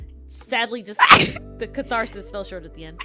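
A single sharp sneeze bursts out at close range in the middle of a person's speech, and the talking continues right after it.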